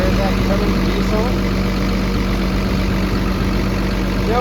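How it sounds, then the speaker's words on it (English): A Cummins diesel engine on an XCMG 210 excavator idles with a steady low, even rumble close by throughout. "There's that Cummins diesel."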